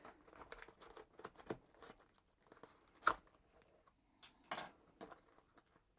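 Close, quiet crinkling and tearing of a plastic seal as a product package is opened with a knife or scissors, in short irregular bursts with one sharper rip midway.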